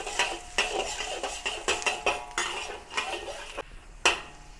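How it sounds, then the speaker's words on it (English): Garlic slices sautéing over low heat in oil in a wok, heard as repeated clinks and scrapes of a utensil against the pan over a soft sizzle, close by with no talking. "Saute the garlic slices over low heat."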